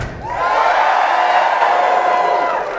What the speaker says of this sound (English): So let me hear you cheer!